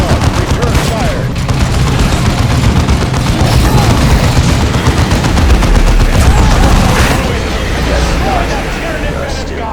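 Dense, loud bursts of automatic gunfire and booming blasts rage continuously through a battle in the strategy game Dawn of War 2, with voices and crowd-like battle noise mixed underneath.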